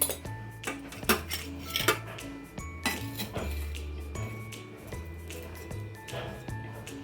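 A crispy bread pizza base being lifted out of a metal pan, with sharp scraping clinks and clatters of utensil against pan, some loud and close, others lighter, continuing through the clip.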